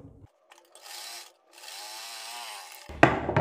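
Domestic sewing machine running a quarter-inch-wide stitch along a kurta neckline button placket: two short runs of a close, even mechanical hum and rapid needle clatter separated by a pause, ending in a louder clunk.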